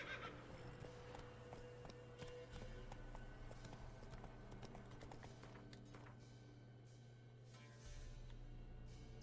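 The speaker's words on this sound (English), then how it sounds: "Yeah, the horse's name is Roach." Horse hooves clip-clop in The Witcher 3: Wild Hunt, a steady rhythmic trot under a continuous low game soundtrack and ambient hum, with a whinny-like tone near the start.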